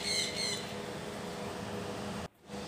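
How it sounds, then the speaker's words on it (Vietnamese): A large South American parrot gives a harsh, loud squawk at the start, then only a steady background hum continues. "Con vẹt này là con vẹt Nam Mỹ nha mọi người."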